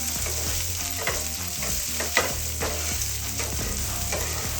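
Chopped onion and capsicum sizzle steadily in a hot pan for an egg chilli stir-fry, with repeated scraping strokes of a spatula stirring the mix throughout, close and fairly loud, with no talking.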